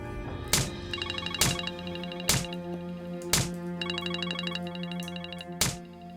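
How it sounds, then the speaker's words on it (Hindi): Phone ringtone ringing indoors, a repeated melodic electronic tone pattern with periodic thumping beats, loud and close, looping several times with no talk. "मैडम का फोन आ रहा है सर।"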